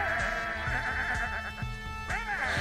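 Sheep bleats from the video game Sheep, several wavering cries over a steady game soundtrack with a repeating rhythmic beat, no talking.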